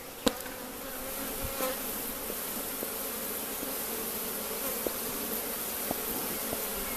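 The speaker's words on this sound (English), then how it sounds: "They sure buzz when you hit them with that smoke" Honey bees in a newly kept hive buzzing steadily after being smoked during an inspection, a dense continuous drone with a few faint knocks and clicks, no voices.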